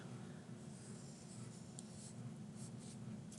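A pen scratches steadily across paper while sketching a normal distribution curve, a soft, continuous close-up scribble with faint strokes and no speech.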